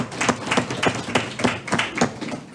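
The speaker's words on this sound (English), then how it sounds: "I think she deserves some applause" An audience at a university campus council meeting gives a short round of applause, with sparse, distinct claps in an uneven rhythm, fairly close and moderately loud, and no talking.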